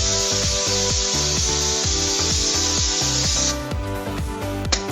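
Manual solvent spray gun in a BECCA S100M cleaner, air still connected, triggered to blast a loud steady hiss of expelled solvent while shaking adds rapid rhythmic clatter; the hiss cuts off and a brief burst follows.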